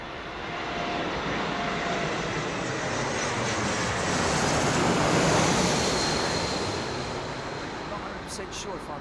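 Airbus A220 airliner at Heathrow Airport, its broad jet roar holding steady and swelling slightly before easing off, loud and continuous throughout.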